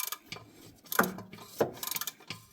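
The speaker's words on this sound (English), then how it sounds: "I fit my hand up here, and then we're just turning that nut to loosen it up." A wrench turns a nut under a car, producing a few faint, close metallic clicks and ratcheting ticks spaced irregularly against a quiet background.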